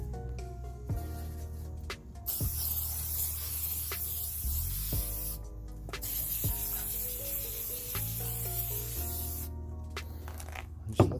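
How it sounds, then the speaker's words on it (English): Zep smoke and odor remover sprayed from a can over interior car parts and a seat of an IS300, a steady close hiss running in long bursts with brief pauses, alone with no talking. "So I'm going to spray some Zep smoke and odor remover stuff, just kind of over these parts."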